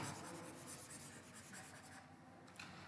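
Erasing writing on a board during a lesson on earthquake-resistant building design: a steady close scrubbing rub lasting about three seconds, with no talk.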